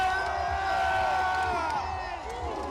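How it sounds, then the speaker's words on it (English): A dense crowd roars and cheers throughout at the Carolina Hurricanes Stanley Cup victory parade, loud and continuous, with whoops and shouts from the nearby section rising over the mass of voices. "the crowd is going insane"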